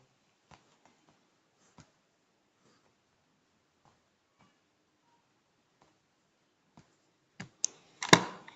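Sparse, isolated keystrokes on a computer keyboard as body text is typed in a graphic design layout, followed by a denser, louder cluster of clicks at the end in a quiet room.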